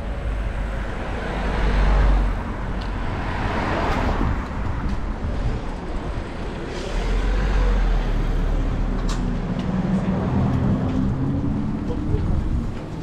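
Cars pass on a cobbled Paris street in the 12th arrondissement, heard from a bicycle as a low rumble of traffic and engines swelling and fading under steady road and wind noise, with someone talking over it.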